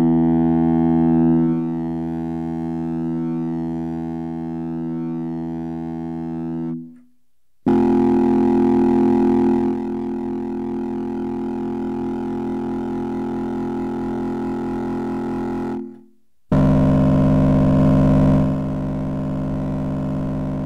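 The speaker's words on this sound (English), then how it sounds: "that's just pure sine waves running through, an analog drive effectively" Steady, buzzy distorted tones of pure sine waves through analog overdrive sustain for several seconds each, cutting off briefly between three long held notes, loud and alone.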